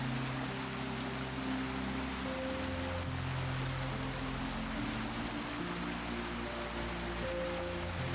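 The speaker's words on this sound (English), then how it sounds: "Stand close enough and the sound replaces thought entirely, just water on rock, over and over." Iceland waterfall about 60 meters high pouring onto rock: a steady, close, full-bodied roar of crashing water that never lets up, with a low droning tone running beneath it.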